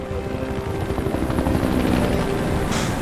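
A helicopter in the video game Resident Evil 5 drones steadily with a thudding rotor beat and whining engine, loud and close throughout with no talk.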